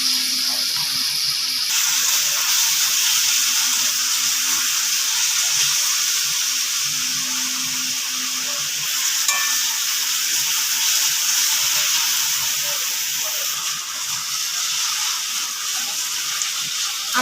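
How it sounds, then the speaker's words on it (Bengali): Garlic paste sizzles in a pan with deep-browned fried onions in a little oil for a chicken spare parts dish, a steady soft hiss running throughout with faint clinks. "এবার রসুন বাটাটা দিয়ে দেবো।"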